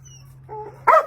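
A shelter mother dog and her puppies give a short, high whimper and then a brief yip-like bark, close and clear in a quiet space, lasting about a second.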